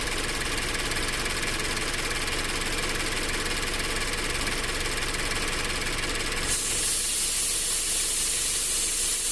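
A 2015 Scion FR-S 2.0 with a lean bank 1 fault idles with a steady, close engine drone and hiss, then the tone shifts abruptly partway through as the idle changes.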